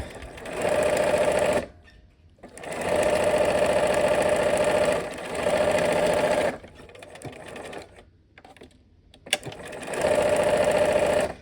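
A sewing machine stitches quilt quadrants together in several loud, steady runs of a few seconds each, separated by short pauses with quiet handling of the fabric.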